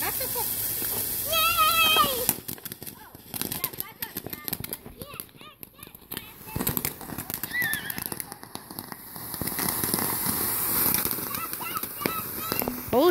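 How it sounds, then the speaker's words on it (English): Backyard Memorial Day fireworks crackle and pop in scattered bursts, with people talking and calling out excitedly throughout. "Firework over here!"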